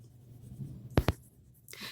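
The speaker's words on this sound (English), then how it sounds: "I am using a blue crayon right now, so I'm going to push just a little bit harder with it" A blue crayon scrapes across slightly yellowed paper in two quick, firm strokes, close and fairly loud, with a fainter rub afterward against a quiet room.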